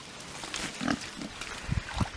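Landrace pigs on a farm give several low, soft grunts at irregular intervals, fairly close but quiet over a steady outdoor background.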